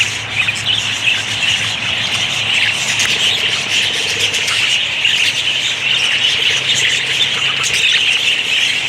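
A bird at the Gulf Breeze Zoo in Navarre, Florida, squawks and chirps in a rapid, continuous stream of harsh calls, close and fairly loud, with no one speaking.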